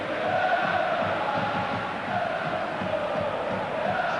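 Huge football stadium crowd at an AC Milan home derby against Inter in the 1992-93 Serie A season, a steady loud roar with chanting swelling and easing, filling the whole stretch without talk.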